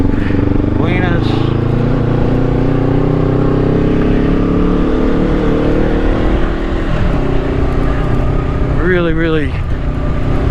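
A 500 motorcycle engine droning steadily while riding through a village, loud continuous engine and wind noise with brief revving swells, a voice speaking briefly over it.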